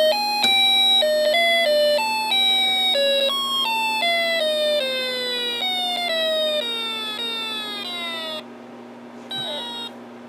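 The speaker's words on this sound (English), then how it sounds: "sounds now through the speaker instead of the alarm IC, but it will have the same decaying effect" A Snap Circuits electronic alarm circuit plays through a speaker, a repeating series of tones sliding downward and fading in a sad decaying pattern, with a steady low hum underneath and a brief chirp near the end.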